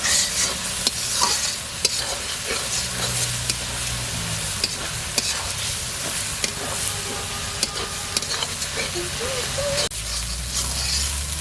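Masala of turmeric, chili and coriander powder frying in oil for a duck curry, hissing steadily while a spoon scrapes and stirs with repeated clicks against the pot, close and loud, with a voice briefly in the background.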